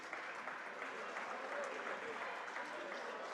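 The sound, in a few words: applause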